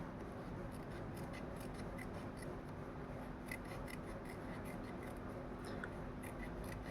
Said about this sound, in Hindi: इस तरीके से गोल घुमाते हुए इस पेपर को चक्री की तरह काट लेना है।